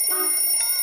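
A cartoon alarm clock rings with a steady, bright electronic tone, a continuous high ringing held at constant loudness for under a second.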